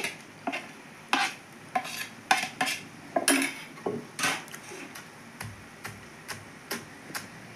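Fried nalleru (veldt grape) stems are pounded for chutney, giving sharp, irregular thuds and clacks roughly once or twice a second, close and fairly crisp, with no speech over them.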